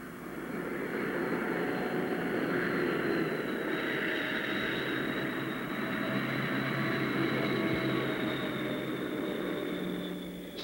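Vickers VC10 jet airliner engines give a steady, loud roar with a sustained whine on top. The sound holds evenly for about ten seconds, as if the aircraft is idling or taxiing at an airport.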